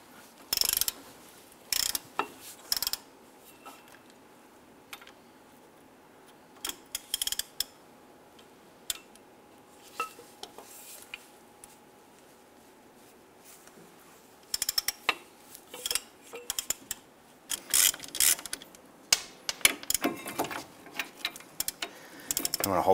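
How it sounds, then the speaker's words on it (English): A ratchet with a 19mm socket loosening the caliper bracket bolts on a 2008-2013 Nissan Rogue: bursts of rapid ratcheting clicks, close, separated by pauses and some clinking of tools. "Using a 19mm socket on your ratchet, go ahead and loosen the caliper bracket bolts."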